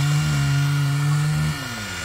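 Excavator engine digging soil on a dirt site, a steady loud droning hum with a pitch that holds then drops slightly as the load changes, close and alone.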